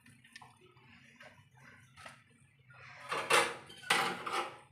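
Squeezed-out juice from grated raw papaya is poured from a cloth, with a few quiet drips followed by two louder splashing pours close by.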